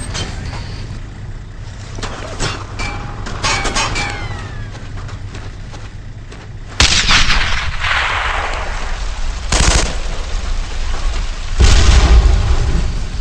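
Gunfire and a heavy muffled blast as a grenade goes off inside an enemy tank in the Xbox game Brothers in Arms: Earned in Blood, with sharp shots and loud booms over a low rumble.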